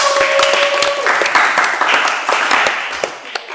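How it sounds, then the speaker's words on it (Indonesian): A studio audience claps for a guest being introduced on an Indonesian talk show, a busy burst of clapping with a few sharper individual claps, accompanied by brief tonal sounds and a voice early on. "Kita berikan tepuk tangan untuk."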